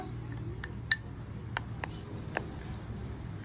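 A spoon stirring a rice powder face pack mixture in a bowl gives a handful of sparse, light clinks and ticks against the bowl, one sharper knock followed by softer taps, all close and quiet.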